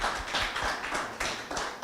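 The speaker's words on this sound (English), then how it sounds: "round of applause for those guys" Scattered clapping goes up for two donors at a virtual fundraiser, a short uneven patter of a few hands at moderate loudness.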